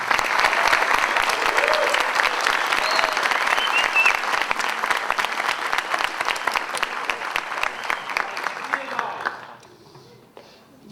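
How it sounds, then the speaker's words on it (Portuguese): Sustained applause from a conference audience at an education and maker event in Brazil, loud and dense for about nine seconds before thinning into scattered claps and fading out near the end. "eu queria pedir uma salva de palmas especial para a Helena"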